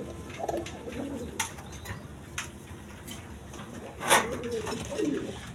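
Two male Siraj Koka pigeons give soft, low cooing calls at close range, a few rounded murmurs spaced through the stretch with one louder burst near the end, over quiet room noise.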